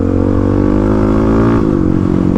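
Close, loud engine note from a Kawasaki KLX351 motorcycle revving smoothly and evenly without misfire, pitch sagging slightly then holding steady, with no talking.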